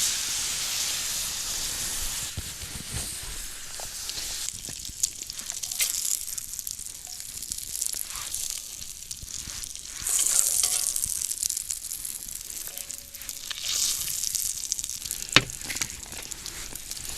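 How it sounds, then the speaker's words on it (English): Meat charring in a Dutch oven at a cold-weather truck camp, a steady bright sizzle and hiss that swells and fades slightly, with a few small pops and no talk. "We're going to let these guys char up a little bit and really get some flavor going in there."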